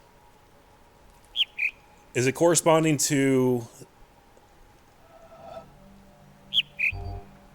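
Two pairs of short high bird chirps come from a speaker object in the game The Witness, fairly faint, with a stretch of talking between them.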